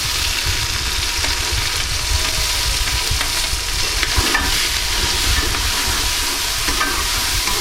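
Ginger, garlic, green chillies and tomatoes frying and being stirred in a pot for restaurant-style white daal mash, a loud steady sizzle with scraping stirs throughout, close up and without talk.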